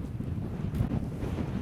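Wind buffeting over a gritstone moorland hilltop on Bleaklow in the Peak District, a continuous low rumbling roar with gusty swells, no voices.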